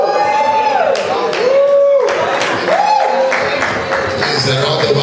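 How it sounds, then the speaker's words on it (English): An audience at a live speaking event gives a round of applause: scattered hand claps rise and fade across the clip beneath a speaker's continuous voice. "There's a round of applause. Somebody clapping here."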